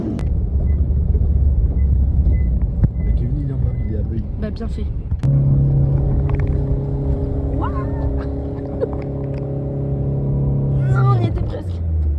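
Truck engine droning while the vehicle drives a mountain road near Beuil, a low steady rumble under French conversation, rising to a sustained higher-pitched revving tone midway, with a clank-like thump as it shifts.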